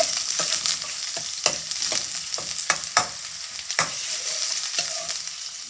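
Long-sliced onions frying for paneer fried rice, a constant bright sizzle broken by repeated sharp scrapes and taps as a spoon stirs the pan, close-up with no talking.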